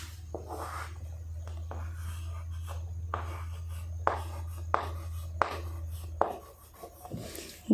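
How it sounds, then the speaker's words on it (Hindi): Marker or chalk writing on a board during a biology lesson about plastids: a run of short scratchy strokes and taps in an uneven rhythm, close and fairly quiet over a steady low hum, with no speech. "साफ लिख देती हूँ, थोड़ा गंदा हो गया।"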